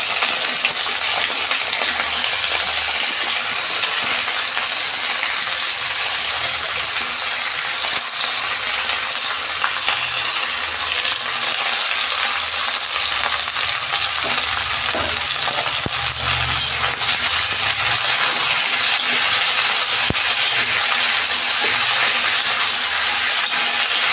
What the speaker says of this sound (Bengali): সবজিগুলো ভাজবো। এই সব সবজিগুলো আমি একসঙ্গে দিয়ে দেবো।